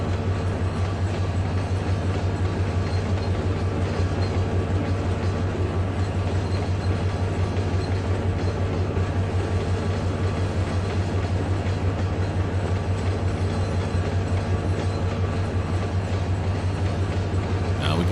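A freight engine rolls along the track in Trainz 2022, a steady loud rumble with a strong low hum and rail noise that holds evenly throughout without pause.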